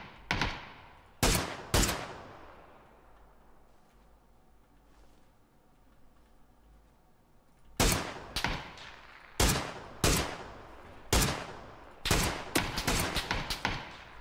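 Bursts of gunfire in PUBG, a few sharp shots early, then a quiet stretch of distant ambience, followed by a rapid string of loud, cracking shots and short volleys with no voices.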